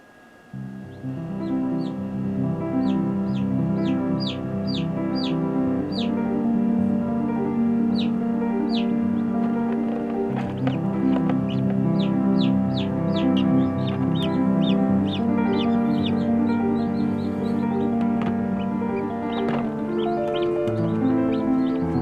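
Chickens on a small Canadian homestead cluck and chatter in short, repeated calls over a steady background hum, close by, with no voices.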